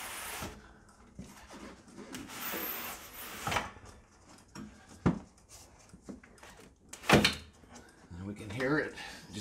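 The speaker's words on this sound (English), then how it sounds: "lift the window up, and once it's disengaged the block and tackle, we'll be able to lift the window out" A vinyl window is lifted in its frame until it disengages from its block and tackle, making scattered faint sliding scrapes and a few sharper clunks while someone talks quietly.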